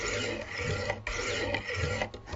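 A knife blade is sharpened on a Wicked Edge sharpener, with close, raspy scraping strokes of stone on steel, several repeated passes with short breaks between them, and no talking.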